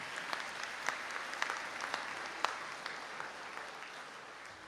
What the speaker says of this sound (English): A round of applause for graduates